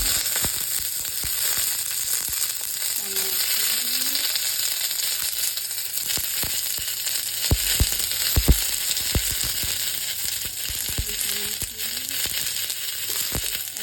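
Onions and other vegetables for pinakbet drop into a pan of hot oil, giving a constant close sizzle with a few sharp clatters of stirring along the way.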